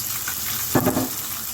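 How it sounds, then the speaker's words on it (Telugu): Chopped onions dropped into hot oil in a pan, giving a steady close frying hiss with a brief louder burst of sizzle as they hit the oil. "కోసి పెట్టుకున్న ఉల్లిపాయ ముక్కలు వేస్తున్నాను"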